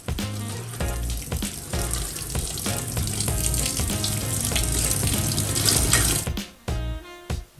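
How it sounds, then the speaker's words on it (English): Tap water runs steadily into a sink to cool the bottom part of a stovetop coffee maker, a close, hissing gush that stops abruptly near the end. "just run the bottom part with cooled water in the sink"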